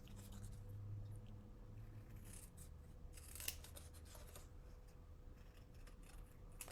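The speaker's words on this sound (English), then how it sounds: "And fussy cut this." Scissors fussy-cut paper for a handmade card, leaving a small border, producing soft, close snipping and rubbing sounds over a steady quiet background with no talk.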